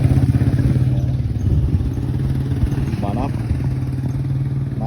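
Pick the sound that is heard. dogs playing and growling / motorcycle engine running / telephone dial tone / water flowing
motorcycle engine running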